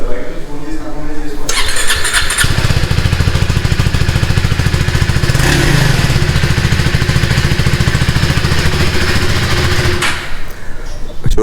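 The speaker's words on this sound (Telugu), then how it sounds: "ఇప్పుడు ఒకసారి ఎగ్జాస్ట్ సౌండ్ విందాం. Exhaust note." KTM Adventure 390 S motorcycle in a showroom, the engine catching and then revving hard for several seconds in a loud, rasping exhaust blare before dropping back to idle.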